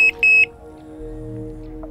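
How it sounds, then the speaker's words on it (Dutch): Carp fishing bite alarm on the left rod of a setup on French public water, giving three sharp electronic beeps in quick succession near the start, then ambient outdoor hum with no talk. "volle fluiter op zijn linkerhengel"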